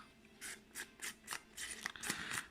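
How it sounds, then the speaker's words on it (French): A small metal tin holding an Andromeda RDA dripper is unscrewed by hand, giving faint, close, rhythmic scraping ticks of metal threads turning in a quiet room. "Petite boîte métallique, qu'on dévisse."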